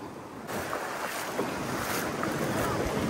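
Ocean waves wash steadily onto Nagaon beach in Alibag, a continuous roar of surf mixed with gusty wind buffeting the microphone.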